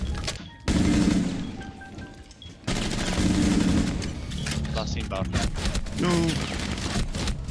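P90 submachine gun fire in Rainbow Six Siege, loud sustained automatic bursts with brief pauses in between, close and harsh, while players talk excitedly over the shooting.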